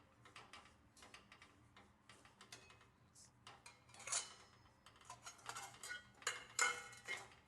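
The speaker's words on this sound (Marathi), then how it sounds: "साधारण 5 ते 6 मिनिटं हे सारखं ढवळत राहायचं सर्व एकजीव होईपर्यंत" A spoon stirs a sweet fasting-barfi mixture in a pan, giving faint, irregular scraping and ticking clinks against the metal, quiet and close, with no talk.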